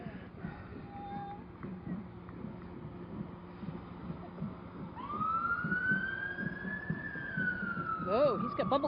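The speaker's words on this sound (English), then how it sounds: "The sirens are the fun part." Emergency vehicle siren in a pre-Memorial Day parade in Bedford, starting midway as a loud rising and falling wail with a short whoop near the end, over crowd noise and talk.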